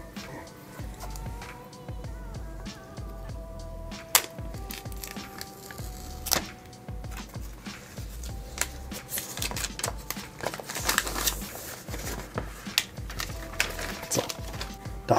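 An iPhone X is unpacked from its box: close, crisp crinkling, sliding and tapping of cardboard and plastic packaging, with a soft voice faintly in the background.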